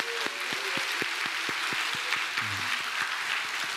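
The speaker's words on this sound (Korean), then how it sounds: "여러분 모두가 환호와 축하의 박수로 한번 우리 다 같이 나봅시다" A church congregation claps in welcome for newly confirmed members during a Sunday service, a dense, steady patter of many hands that fills the room throughout, with a brief voice sounding faintly partway through.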